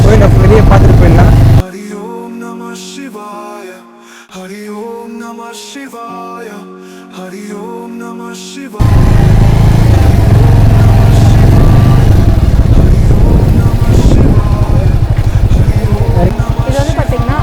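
A motorcycle on the Tiruvannamalai girivalam route in India rumbles loudly and steadily with wind noise, broken by a stretch of instrumental music in the middle before the engine returns.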